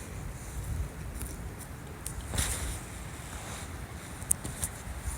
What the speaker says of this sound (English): The wind was strong.